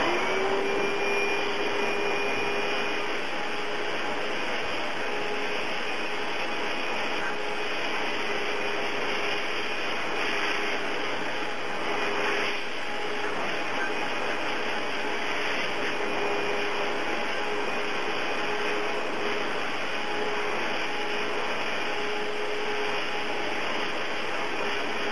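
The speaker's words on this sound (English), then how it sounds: "I'm going to use the high-velocity dryer. It's going to be noisy." A high-velocity pet dryer blows a Standard Poodle's coat with a steady, loud, unbroken roar that holds constant throughout, with no voices over it.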